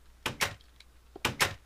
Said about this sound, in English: An iron door.